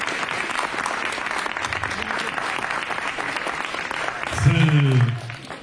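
An audience applauds at a political meeting of the Union. Dense clapping runs steadily throughout and swells briefly near the end, where a voice speaks over it.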